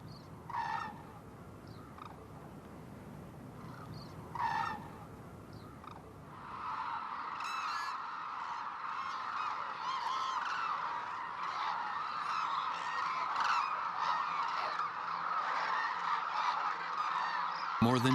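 Wintering cranes call on the plains of Izumi, Kagoshima, Japan: a few scattered honking calls at first, then a dense, continuous chorus of many birds at moderate distance, with calls layered over one another.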